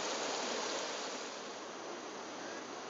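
River water flowing in a steady broadband rush, loud and continuous with no breaks or voices.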